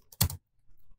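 A few quick keystrokes on a computer keyboard entering a database command, close and crisp, followed by faint soft taps in a quiet room.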